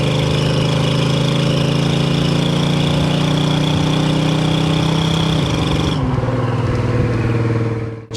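A 1971 Ford Torino 500 engine drones steadily while accelerating on the road, its low tonal hum rising in pitch before dropping as it shifts, loud and close throughout.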